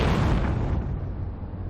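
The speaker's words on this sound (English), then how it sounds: "the sound effects of the thrusters firing and the long push you make through the" Spacecraft thrusters roaring at launch in Outer Wilds, a loud, dense rumbling burst that starts full and gradually thins and fades over a couple of seconds.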